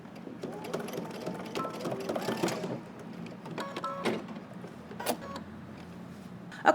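A sewing machine stitches along a jacket welt pocket, giving quiet mechanical whirring and clicking bursts that start and stop, with faint handling noises between runs.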